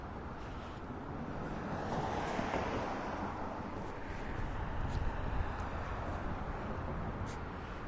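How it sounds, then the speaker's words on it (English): Strong wind buffets the microphone outdoors on an elevated spot, a continuous low roaring rumble that swells and eases over several seconds, loud and close, with no talking. "God, it's windy up here today."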